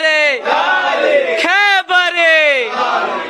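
A crowd at a Shia majlis roars a loud chanted response to a called slogan, several drawn-out shouted syllables in unison, harmonically rich and sustained, close and powerful.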